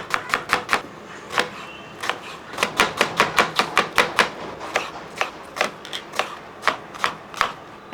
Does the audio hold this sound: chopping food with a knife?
yes